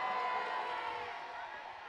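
A big crowd at a high school football game between the Colonels and the Monarchs roars with mixed boos and cheers after a penalty call, a broad distant swell of voices slowly fading over two seconds.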